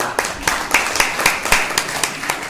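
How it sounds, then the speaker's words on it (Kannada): An audience at the 20th anniversary celebration of the Kannada monthly Anupama in Bijapur claps in a steady, even rhythm, with sharp, close beats repeating about four times a second. "ಈ ಚಪ್ಪಾಳೆ"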